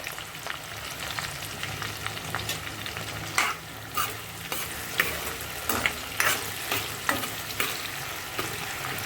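Onions with a little salt fry in a pan, a steady close sizzle broken by repeated scraping stirs every second or so, with no voices.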